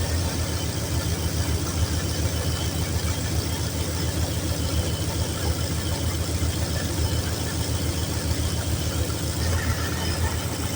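A Chevrolet Caprice engine with a head gasket leak idles slowly during a radiator repair, giving a steady, continuous low rumble at an even level throughout.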